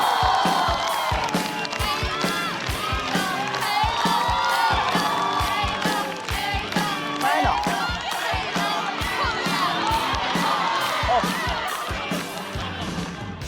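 A stand-up comedy audience cheers, whoops and applauds to welcome a comedian onstage, with dense, loud crowd noise that stays steady throughout.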